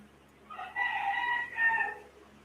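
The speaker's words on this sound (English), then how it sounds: "you guys can still hear the rooster" A rooster crows in two drawn-out, raspy calls, fairly close and clear over a quiet indoor background hum.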